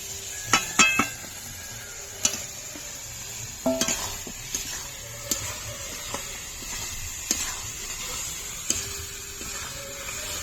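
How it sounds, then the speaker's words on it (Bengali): Fried potatoes added to Kashmiri red chili powder and turmeric in a pan for aloo curry, a soft sizzle under repeated metal spoon scrapes and clinks, close by with no talk. "কাশ্মীরি রেড চিলি পাউডার ভালো করে কষে নেব এবার ভেজে রাখা আলুগুলো দিয়ে দেবো"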